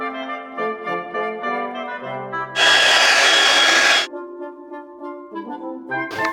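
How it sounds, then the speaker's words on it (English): A hairdryer blasts for about a second and a half, a steady loud broadband whoosh blending poured paint on a bear figure, with music playing before and after. "maybe even sort of mix them together with the hairdryer, get that cooling blending"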